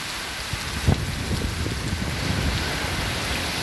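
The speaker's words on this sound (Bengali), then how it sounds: "এক তো জোয়ারের পানি দ্বিতীয়ত মুসলধারে বৃষ্টি সেই সাথে বাতাস তীব্র বাতাস" Steady, dense rain pours down heavily during Cyclone Remal, with strong wind and tidal flooding, a constant wash of noise with occasional thumps, no voices.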